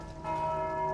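Church bells ring in the video game Dark Souls II, a sudden bright resonant strike that swells in and hangs as a sustained, humming bell tone, loud and alone.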